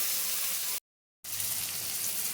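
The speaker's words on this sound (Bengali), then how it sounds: "এবার ভালো করে ভেজে নেবো চিংড়ি মাছগুলো দিয়ে" Small shrimp fry with onion and chili for a Goan-style coconut shrimp dish, giving a steady, close, bright sizzle that cuts to silence briefly midway before resuming.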